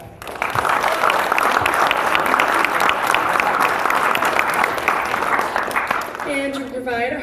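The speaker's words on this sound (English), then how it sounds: "Give me another round of applause." Audience at a Century College ceremony honoring the Student Senate bursts into dense, sustained applause for several seconds, then fades as a voice starts speaking near the end.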